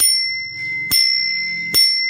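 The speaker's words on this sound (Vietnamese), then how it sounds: "Đó bác thấy không, cái chuông bắt bông tăng nha, bông tăng hoặc ghi đông cũng được nha." An antique bicycle bell mounted on handlebars rings twice, two sharp bright dings about a second apart, each with a lingering metallic ring in an otherwise quiet setting.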